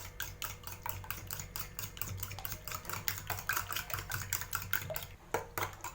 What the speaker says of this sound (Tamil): இப்போ இது நம்ம நல்லா கலக்கி விட்டுடலாம்.